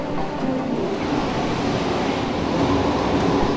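An airport Skylink people-mover train at DFW Airport rolls past with a steady, continuous rumble and rush, fairly close and even in loudness throughout.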